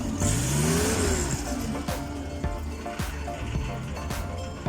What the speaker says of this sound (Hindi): हमने गाड़ी स्टार्ट की है।